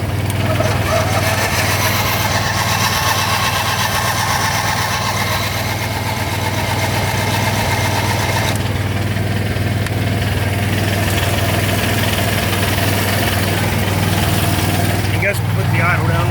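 An engine runs on choke at full throttle with a loud, steady, close drone and a throbbing low rumble that holds for the whole stretch. Someone talks over it at points.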